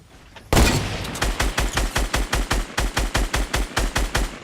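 Video game gunfire opens with a sharp blast, followed by a steady automatic burst of about seventeen evenly spaced, loud, close shots.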